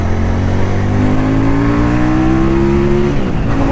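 A QJMotor SRK 400 motorcycle accelerates hard to overtake, its engine note climbing steadily in pitch over a continuous loud roar before easing off near the end.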